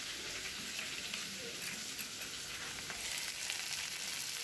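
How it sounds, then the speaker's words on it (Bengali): Potatoes frying with salt in a pan of oil while cooking a Bengali dhokar dalna, a constant close, bright crackling sizzle with no pauses. "আমি আলুটা দিয়ে দিলাম, দিয়ে একটু নুন দিয়ে আলুটাকে একটু ভাজা ভাজা মতনই করে নিলাম"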